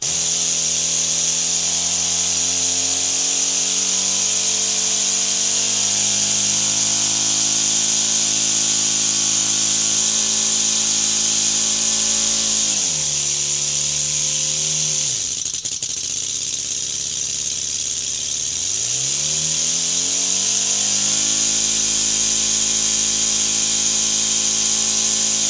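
A small inline four-cylinder engine running steadily at about 3200 RPM, a loud continuous drone with a brief dip in speed partway through before picking back up, no voices.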